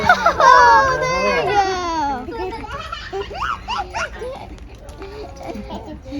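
A herding dog whines and yelps excitedly while working cattle outdoors, with high wavering cries up front, then scattered whimpers and shouting voices mixed over a quieter field background.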